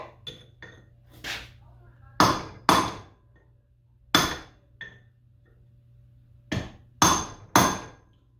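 A hammer taps on the end of a motor shaft to drive it free from a scrapped variable drive gearbox and electric motor combo. Sharp metallic strikes come close and loud in irregular pairs and clusters, with short quiet gaps between them.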